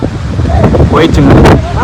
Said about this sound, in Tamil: அடிக்கிற காத்துக்கு நின்று எடுக்கிறதே கஷ்டமா இருக்கு